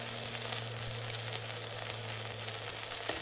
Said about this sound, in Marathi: मिरच्या थोड्याशा छान अशा तळल्या गेल्या